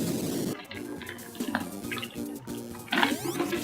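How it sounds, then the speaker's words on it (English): Someone drinks from a water bottle close by, with a few wet gulps and sloshing liquid sounds in an uneven rhythm, set against a faint background tone. "I hope there were some weird drinking noises in that."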